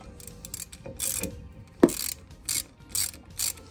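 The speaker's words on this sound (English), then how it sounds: "we're just going to take and remove the banjo bolt from the old caliper" Ratchet wrench loosening a banjo bolt on an old seized brake caliper of a Dodge car, a series of clicking ratchet bursts with a sharper snap partway through, close and clear with no talk.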